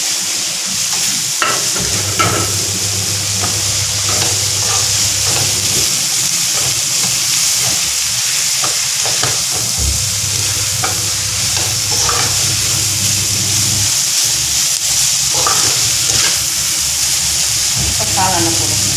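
Capsicum frying in a hot pan for spaghetti with prawns, with a loud continuous sizzle and hiss and spoon or spatula stirring scrapes recurring throughout, close up.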